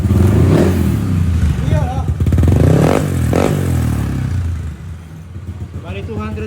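A tuned 200cc motorcycle with a JPT head, TSMP block and TSMP throttle body runs up close, revving in short bursts and settling back to idle while someone talks over the engine.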